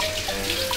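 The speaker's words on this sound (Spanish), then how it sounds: "Apaga el grifo, Oscar" A tap runs steadily into a sink, making a continuous close hiss of flowing water with no talking.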